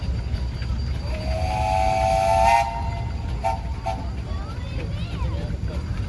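An 1899 Russell steam traction engine, rated around 30 horsepower, rolls past in a parade at a steam and threshing show. A steady low rumble runs under a sustained whistle tone, with a voice talking over the crowd noise.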